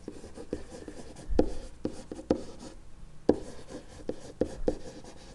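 Someone writes out the area-of-a-circle formula by hand, producing a series of close scratchy strokes and taps in irregular bursts with short pauses between words.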